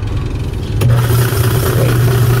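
A Fujidenzo washing machine motor spins in reverse, a loud steady droning hum that rises and holds as the drum gets going, close and continuous.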